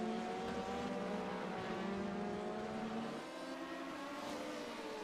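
An LMP sports prototype race car roars past at Daytona with a steady, loud engine drone that holds through the pass and shifts pitch slightly as it goes by.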